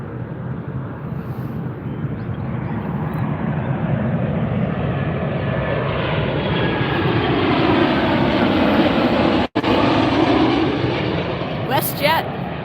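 A WestJet airliner arriving at Las Vegas airport roars loudly and continuously, swelling toward the middle with a brief dropout near the end, as voices talk underneath.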